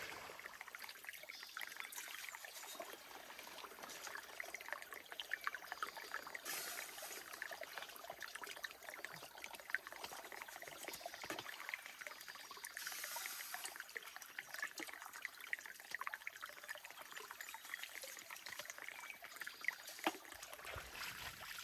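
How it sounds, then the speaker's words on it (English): Water runs steadily through a gold mining sluice packed with rocks, a faint continuous trickle and rush heard alone for the whole stretch. "I might want to take a little bit of these rocks out of here just to get rid of some of that flow"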